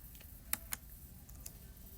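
A few faint, sparse clicks of a computer keyboard as an equation is typed, with single keystrokes spaced out over a quiet background.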